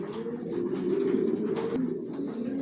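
Racing pigeons of a Johnson long-distance line coo softly in a loft, with continuous low burbling calls from several birds overlapping close by.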